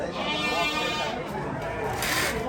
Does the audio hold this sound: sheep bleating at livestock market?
yes